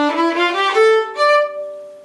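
Opening notes of the Bach Double Concerto played on a solo violin, a quick run of bowed notes ending in a sustained tone, close, bright and resonant with no talking.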